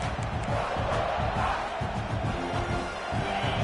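A football stadium crowd roars throughout, a dense, steady wash of cheering voices, fairly distant and even in level.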